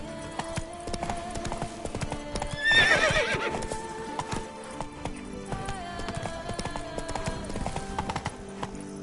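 Roach, a horse in a video game, gallops with rapid clip-clop hoofbeats and lets out a loud whinny partway through, while the footfalls carry on steadily to the end.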